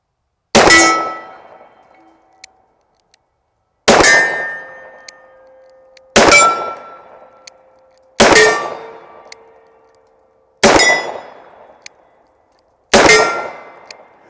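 Six loud, sharp reports from a Smith and Wesson Model 29 revolver firing hot .44 Magnum loads, spaced a couple of seconds apart, each with a metallic ring and quick decay.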